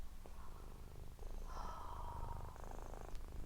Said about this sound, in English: Can you hear the purr in the microphone?